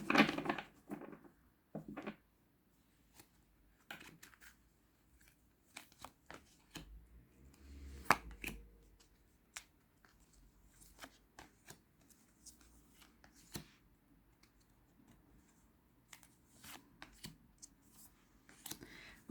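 Tarot cards being shuffled and drawn by hand: a burst of riffling at the start, then scattered crisp flicks and snaps as single cards are laid down, one louder slap midway, in a quiet room with no talking.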